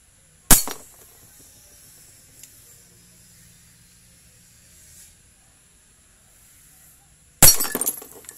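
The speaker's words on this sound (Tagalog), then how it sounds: "Basag yung dalawang bote." Two glass bottles shatter when hit by shots from a Crosman SR357 airgun revolver, each a sharp, loud crash of breaking glass with a brief spray of fragments, the impacts several seconds apart with near silence between.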